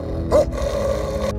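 A large Alabai, a Central Asian shepherd dog, gives a short low rumbling growl at close range, deep and throaty, rising briefly before settling into a steady snarl.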